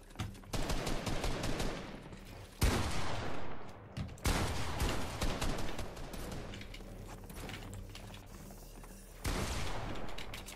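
Gunfire in a Fortnite box fight video game, dense bursts of rapid shots that run almost continuously, loud and close, broken by brief pauses.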